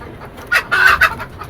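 Chickens at a rooftop chicken farm give a short burst of loud, close clucks, three quick squawking calls in a row over quiet background.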